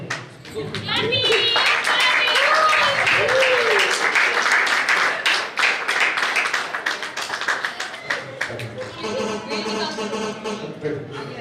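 A congregation claps in steady rhythm during a church wedding service, with many hands beating together under voices singing and speaking, loud and close throughout.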